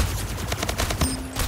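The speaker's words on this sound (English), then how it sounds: "I'm being shot at." Rapid automatic gunfire in the video game Splitgate, a dense stream of close, loud shots rattling without pause, with no talking over it.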